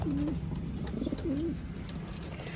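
Racing pigeons coo close by in soft, repeated throaty rolls over a steady background hum, with a few faint chirps mixed in.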